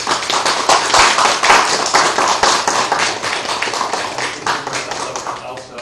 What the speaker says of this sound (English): Thank you, Richard. Applause.